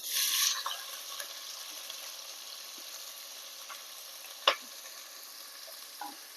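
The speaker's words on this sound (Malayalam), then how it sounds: "പൊടിപ്പൊടിയായി കട്ട് ചെയ്ത ഉള്ളി ഇട്ട് കൊടുക്കാം" Finely chopped onion sizzles in a hot pan, with a brief louder burst at the start when it goes in, then settles into a quiet, steady frying hiss with a few faint stirring clicks.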